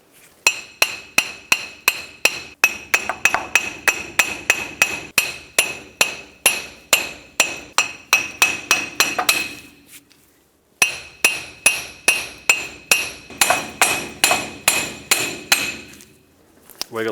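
Sharp metallic hammer blows ring out as a wheel hub assembly is tapped out of a 2008-2010 Ford F-450 Super Duty, dozens of evenly spaced close strikes, a brief pause, then another steady run of blows.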